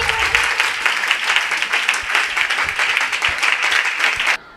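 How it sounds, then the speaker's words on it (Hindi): Audience applause at a prayer meeting, a dense loud burst of many hands clapping that runs steadily for several seconds and then cuts off abruptly, with no talk over it. "सो मैं आपकी जोरदार तालियों में सिस्टर मनीषा को दावत दूंगी।"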